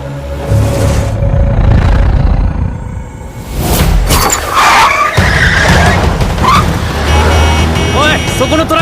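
A truck skidding during a chase scene in the anime Erased, with loud tire screeches and rumbling engine noise, crashes and whooshes, plus voices shouting through the scene.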